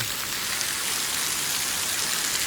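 Heavy summer rain pours down on a farm, a steady, dense hiss of drops hitting surfaces, even and unbroken, with no voices.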